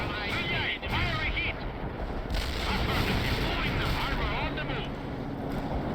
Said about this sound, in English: And we can continue to just drop artillery on people.